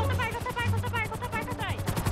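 Rapid automatic gunfire in GTA 5 roleplay rattles in a fast, steady burst of regular shots, loud and continuous through the whole stretch with dense overlapping reports.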